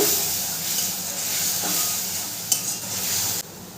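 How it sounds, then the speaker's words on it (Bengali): Spice paste with turmeric dissolved in water sautéing in a pan for a vegetarian Bengali doi potol curry, giving a steady close sizzle and hiss with a spoon stirring and scraping through it and one sharp clink near the end. "মশলাটা দিয়েও খুব ভালো করে কষিয়ে নেব"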